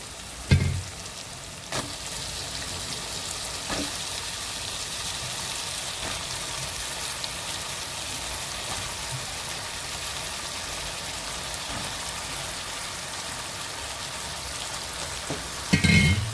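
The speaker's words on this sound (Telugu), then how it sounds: "ఇలా వంకాయలు వేసేసుకొని ఒకసారి తిప్పుకొని" Brinjal pieces fry in a pan with ginger-garlic paste, a steady close sizzle running throughout, broken by a few stirring knocks near the start and a louder scrape at the end.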